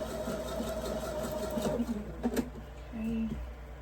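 A sewing machine stitches quilt block pieces, a close, steady mechanical whir that hums along with slight shifts in pitch and a few brief louder clatters.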